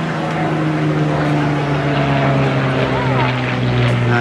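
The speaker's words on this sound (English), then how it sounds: "Will Greenwood really putting the aircraft through its paces" A propeller fighter aircraft flown hard through aerobatics at the 2019 Teignmouth Airshow gives a loud, steady engine drone with a deep harmonic hum, running continuously beneath a commentator's voice.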